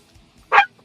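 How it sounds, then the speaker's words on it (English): A single sharp bark from a pet dog indoors, close and loud, standing alone against near silence. "My dog's going crazy. Let me put him outside real quick."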